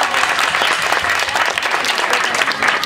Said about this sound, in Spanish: un fuerte aplauso para Mónica.